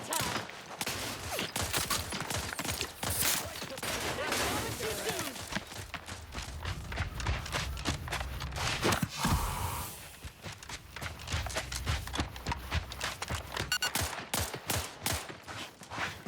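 Gunfire in The Outer Worlds 2, dense rapid volleys of shots crackling across the whole clip amid running footsteps and combat noise, fairly loud and continuous.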